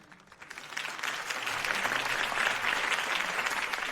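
Crowd applause in the Batman Telltale Series game swells from a few claps into a steady, moderately loud ovation lasting several seconds.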